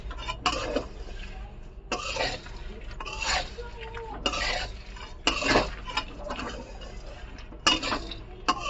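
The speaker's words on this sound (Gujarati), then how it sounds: "હવે આને કન્ટિન્યુ 2 થી 3 મિનિટ સુધી આવી રીતના જ હલાવવાનું છે તળિયેથી." Nylon poha chivda stirred in a pan, with scraping and rattling strokes coming in repeated bursts about every second or so, close and moderately loud.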